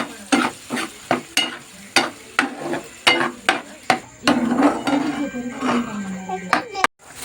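Ground paste for kara chutney being sautéed in a pan: a steady run of sharp spatula knocks and scrapes against the pan over a soft sizzle, close and fairly loud, with no talking.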